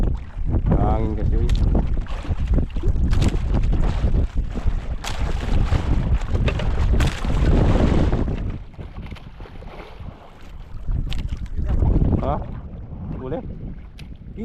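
Wind blowing over a small fishing boat at sea off Palawan in the Philippines, a loud continuous roar buffeting the microphone, easing slightly toward the end, with voices talking briefly over it.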